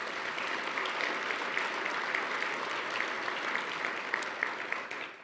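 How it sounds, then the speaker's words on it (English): Steady round of audience applause for volunteers at an annual awards event, even, continuous clapping from a large crowd at moderate distance, holding for several seconds before tapering slightly at the end. "let's give them all a round of applause"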